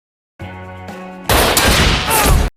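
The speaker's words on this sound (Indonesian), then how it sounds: "Dia pun menembak pistol itu dengan harapan akan mengarah ke si Jamet." Gunshots burst out in an action film scene of a robbery syndicate's revenge, a dense, loud volley that fills the last second or so after a low sustained musical tone.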